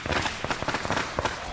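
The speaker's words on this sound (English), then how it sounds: "Welcome home, Shouts Shang over the noise of the firecrackers." Firecrackers pop in a rapid, dense crackling string, loud and continuous, as a village welcomes someone home.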